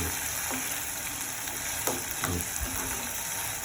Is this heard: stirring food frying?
yes